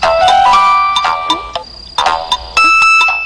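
A phone ringing with an incoming call, playing a loud electronic melodic ringtone in repeated tonal bursts with short gaps between them, close and clear, with no talk over it.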